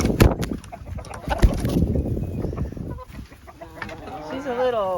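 Backyard hens clucking and squawking over a cucumber treat, nearby and busy, with someone talking to them over the birds.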